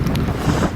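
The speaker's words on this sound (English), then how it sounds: "I'm sorry about the wind." Strong wind buffets the microphone in a garden in early February, a dense low roar with gusts that has picked up again, brief and continuous with no talking.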